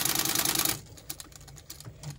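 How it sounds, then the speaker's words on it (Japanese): A sewing machine run by a foot switch, a steady dense whirring burst at first that stops abruptly, followed by scattered light clicks and taps, fairly close. "ミシンを踏むって言うじゃない"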